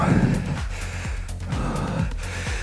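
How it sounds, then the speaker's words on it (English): Someone takes a deep, audible breath close by during an indoor cycling sweet-spot workout, with a voice speaking around it. "Good deep breath."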